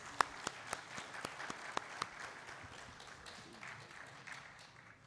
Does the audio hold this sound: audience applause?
yes